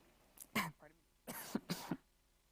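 A panel moderator coughs several times while speaking at a conference discussion, short harsh bursts close to the microphone, mixed with throat clearing and brief speech.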